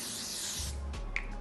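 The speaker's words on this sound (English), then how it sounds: "I'm going to do a final setting using the same setting spray." Makeup setting spray is misted over the face in a short, breathy hiss of about a second, close and fairly loud, ending with a faint click.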